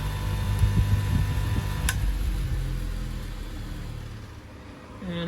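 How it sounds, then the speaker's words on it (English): A polishing buff wheel spins while buffing a coral fossil, a steady low motor hum with a faint rubbing drone, close and moderately loud, slowly tapering off before a brief bump at the end. "now we buff that off"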